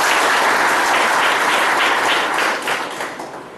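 An audience at a business seminar in Kondagaon, Chhattisgarh bursts into loud, dense applause that holds steady and then begins to fade toward the end.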